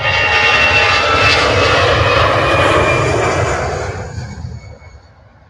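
An EasyJet airliner's jet engines roar loud and close at Manchester Airport, a broad sustained rumble that fades away over the last seconds as the plane passes.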